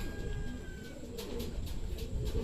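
A racing pigeon coos softly and repeatedly on its return from a 250 km derby race out of San Narciso, Quezon, with a low steady outdoor hum underneath and no talk.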